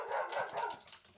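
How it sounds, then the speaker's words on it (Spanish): A pet dog gives a few quick muffled barks and yips in a room, fairly faint and heard without talk. "ese es mi perro"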